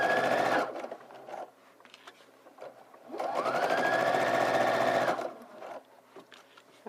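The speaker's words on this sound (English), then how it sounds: "I'm going to start from the shoulder and sew all the way to the side seam." A sewing machine stitches dress lining from the shoulder down to the side seam in two fast whirring runs, the motor whining up at each start, close and clear with a quieter gap between.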